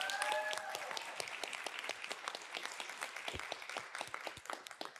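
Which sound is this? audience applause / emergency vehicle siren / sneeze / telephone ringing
audience applause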